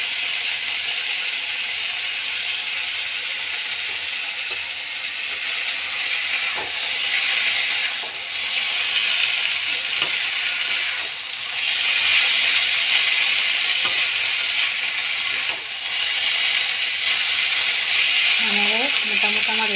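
Fried palak chicken sizzling in a pan as sesame seeds are scattered over it, a steady close hiss and crackle throughout with brief voice-like tones near the end.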